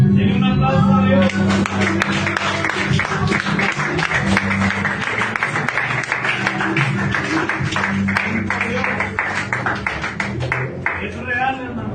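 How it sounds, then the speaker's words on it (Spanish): A church congregation claps at a worship service, dense sustained clapping under loud singing or preaching and steady music. "denle un aplauso a Dios"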